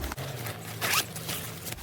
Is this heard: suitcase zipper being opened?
yes